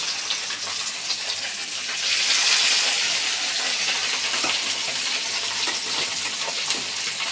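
A large rohu fish of about one kilogram frying in hot oil, a steady dense sizzle and hiss that swells briefly louder, close and continuous with no talking.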